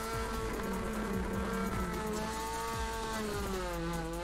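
A rotary-engined car in the Torque Drift video game revs hard. Its buzzy, fairly quiet engine note climbs slowly in pitch as it builds speed, steady throughout, with no talking.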